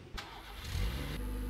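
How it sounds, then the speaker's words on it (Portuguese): A car engine in the Contraband Police game is switched off: a short mechanical clunk, then a low engine rumble that swells and settles into a steady hum over about a second and a half. "Aí é para desligar o carro."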